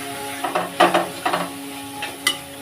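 Spinach hits a hot pan for palak khichdi, giving a few short bursts of sizzle and stirring scrapes against a steady low hum, close and clear without speech.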